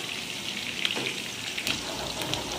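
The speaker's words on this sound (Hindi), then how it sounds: "ये भी मैंने 2 से 3 लेके और उसको ऐसे फ्राई के लिए डाल दिया।" Chilies fry in a pan of oil for a taro root masala, a steady close sizzle with small crackling pops running throughout.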